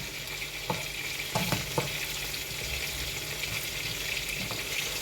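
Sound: minced meat sizzling as it is sautéed in a pan

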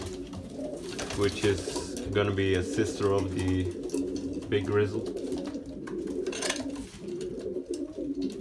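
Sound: Belgian racing pigeons cooing

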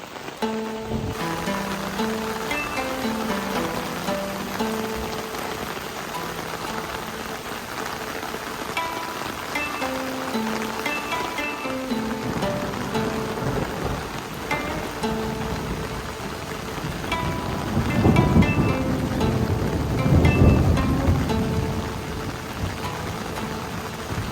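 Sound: rain falling at a forest hot spring, Tsurunoyu onsen

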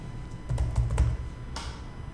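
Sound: typing on a computer keyboard

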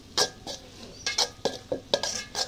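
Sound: stirring ingredients in a bowl

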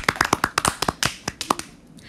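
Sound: applause

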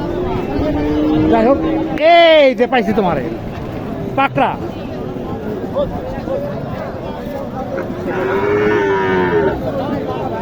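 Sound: cattle mooing at a cattle market

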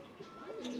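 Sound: pigeon

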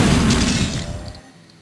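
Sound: explosions in Shadow Warrior video game

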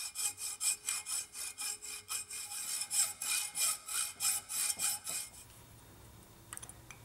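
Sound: grinder cleaning up a cast bronze arrowhead

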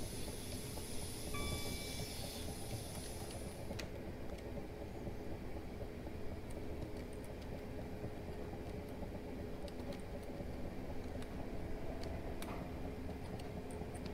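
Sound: Class 455 train rolling downhill in Train Simulator 2019 video game

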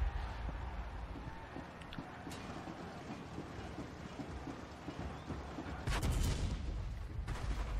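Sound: tank cannon fire in World of Tanks video game

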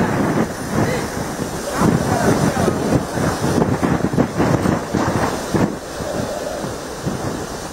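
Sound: strong gale wind

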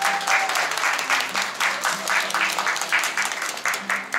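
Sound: wedding guests applauding the bride

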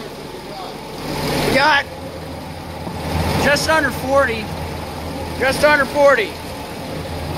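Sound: 1947 Hughes Doodle Bug loader engine idling

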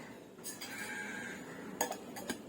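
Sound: lid being placed on a bowl of shrikhand

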